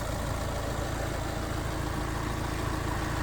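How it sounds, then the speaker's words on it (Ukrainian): A 2019 MAN van's 2.0-litre 130 kW diesel engine idles with a steady, even rumble, heard alone with no voices over it. "На даний час заведений 2-літровий 130 кВт двигун, 300 тисяч ріднього пробігу, чисто працює"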